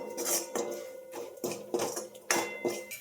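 A spoon scrapes and clinks against a pot while stirring Punjabi-style kadhi, making rhythmic metallic knocks about twice a second, close and clear, with no talking.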